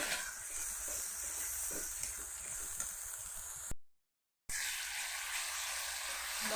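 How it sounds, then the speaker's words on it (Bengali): Spice paste of dry red chilli powder, cumin and coriander powder fries in oil for dal, a soft steady sizzle with a brief silent gap midway. "মশলা আমার লাল করে ভাজা হয়ে গেছে।"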